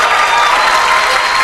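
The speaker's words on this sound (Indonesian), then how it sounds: "tepuk tangan, bagus. Bagus, bagus. Begitu serempak." Audience applause at an Indonesian stand-up comedy show, a dense steady clatter of many hands clapping together throughout, loud and close with no voices over it.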